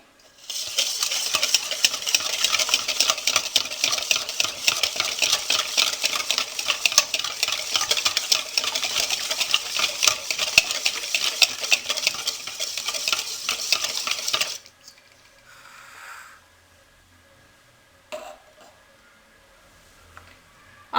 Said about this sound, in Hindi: इसको भी हम अच्छे से मिक्स कर लेंगे।